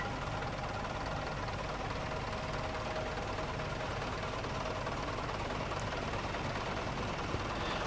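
A diesel-engined Fordson Major tractor runs steadily at an outdoor vintage machinery parade, giving a continuous rough, knocking drone at constant loudness with no pauses or talk.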